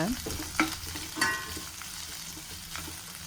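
Two dried red chilies, a green chili and cut onions frying in a pan, a close sizzle with a few sharp scrapes of stirring near the start, then steady crackle.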